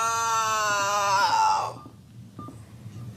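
A woman in labour lets out one long, loud, strained scream that breaks off abruptly, followed by quieter room sounds close by.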